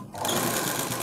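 A sewing machine stitches kaaja patti trim on a blouse, running in a steady, continuous whir close by after a brief quiet start, with no talking.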